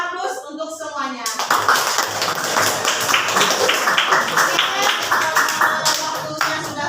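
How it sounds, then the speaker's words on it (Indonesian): Students in a high school classroom burst into applause, with dense clapping that follows a short stretch of a voice talking and continues steadily to the end. "Beri aplaus untuk semuanya."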